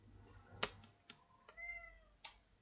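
A house cat gives one short, quiet meow in a hushed room, set among a few sharp clicks and knocks.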